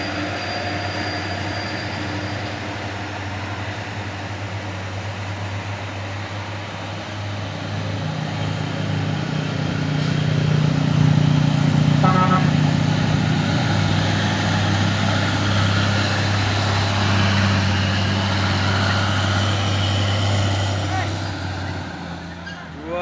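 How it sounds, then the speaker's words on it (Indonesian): Loaded truck hauling stones labors up a steep incline, its low engine drone steady and building louder midway, with rumbling and brief squeal-like tones, recorded from a nearby roadside seat with faint talk underneath. "Unit truk dan truk bermuatan batu menanjak bosku."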